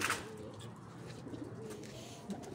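Soft pigeon coos murmur in the background over a faint ambient hiss, low and gentle.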